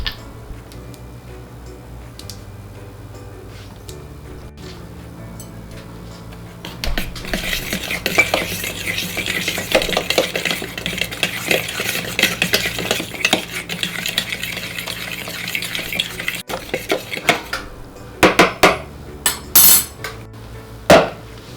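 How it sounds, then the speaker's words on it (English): Flour, baking soda and salt being stirred together in a large mixing bowl, with steady scraping and clinking of a utensil against the bowl, close and fairly loud, ending in a few sharper taps. "in a large mixing bowl, mix together the flour, baking soda, and salt"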